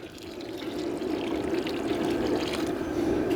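Four cups of water pour steadily into chili in a cooking disk, a continuous close splashing gush that builds slightly and holds level, with no talking.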